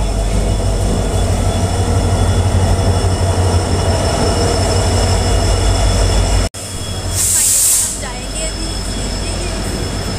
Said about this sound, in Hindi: हम लोगों का ट्रेन आ चुके हैं।